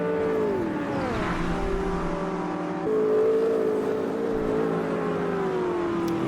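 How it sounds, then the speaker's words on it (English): Race cars in a GT4 sim racing game, a McLaren and a Camaro among them, roar steadily downhill, engine notes rising and falling with gear changes as one car chases another, loud and continuous with no talk. "66 is looking to try and get past the Camaro of Anders as we head back down the hill for our second to last time"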